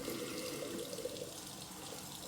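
Tap water running steadily into a sink for rinsing after a straight razor shave, a close, even splashing flow without pause.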